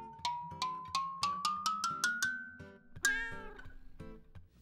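A cat meows again and again at close range, about ten short rising calls in quick succession and then a longer, drawn-out meow, with no other sounds.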